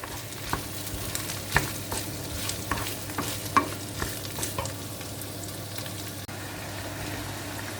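Carrots stir-fried in a pan at home, a soft continuous sizzle broken by frequent scraping and clacking of the spatula against the pan, heard close with no talk.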